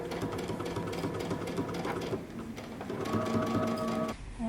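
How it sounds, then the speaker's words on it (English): Sewing machine stitching across the back of jumpsuit fabric, a steady fast mechanical whir and rattle that runs continuously at moderate volume without talk. "And you're just gonna stitch across the back."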